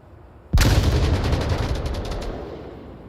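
A sudden loud burst of automatic gunfire in the VR shooter Onward during a competitive match, an abrupt sharp onset followed by rapid rattling shots and a long ringing decay, close and dominant with no talk.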